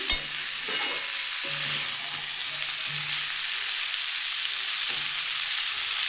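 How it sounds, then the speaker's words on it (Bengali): Prawn, cauliflower and potato curry is stirred in a pan, the spoon scraping in short repeated strokes over a steady, close sizzle, with no talking. "আমি ভালো করে আবার একটু নাড়িয়ে দিচ্ছি"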